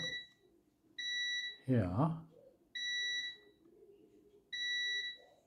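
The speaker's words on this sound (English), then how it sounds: "in continuity mode, we're checking for our beeps" Three sharp, high electronic beeps from a multimeter in continuity mode sound at even intervals, each under a second, with a brief spoken word between them in a quiet room, while testing a corroded Game Boy Advance.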